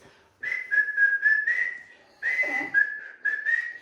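A man whistles a melodic tune while polishing a coffin. Two sustained phrases come through clearly and alone, separated by a brief breath pause.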